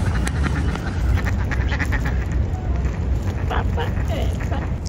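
Ducks quack repeatedly in a noisy outdoor setting, their calls overlapping in a busy, steady chatter.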